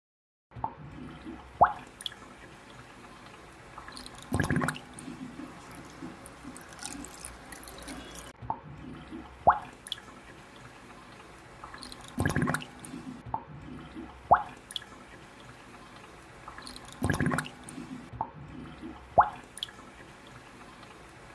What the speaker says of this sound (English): the slurry is transferred to the water pool through a filter